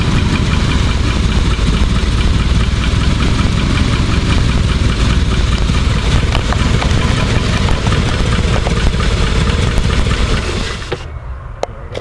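A hot Rolls-Royce car engine idles with a loud, steady low rumble and mechanical clatter, then suddenly cuts out near the end and falls quiet.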